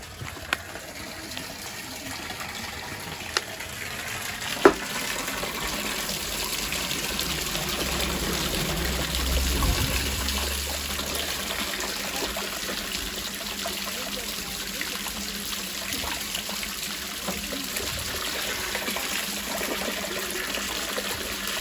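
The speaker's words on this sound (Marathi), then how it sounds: "इकडे नमकचं पाणी आहे आणि ते औषधी आहे म्हणून आता ते मी भरते" Medicinal salt water runs into a container in Himachal, a continuous rushing trickle of pouring water that stays steady throughout with faint knocks and no voices.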